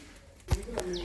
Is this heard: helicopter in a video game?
no